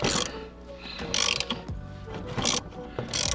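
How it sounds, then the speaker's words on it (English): Ratchet wrench undoing a bolt on the lower moving shifter linkage of an Audi B8, heard as repeated bursts of close, loud clicking pawl strokes with brief pauses between pulls. "So we're going to go down to the moving linkage here at the bottom. We're going to undo this bolt."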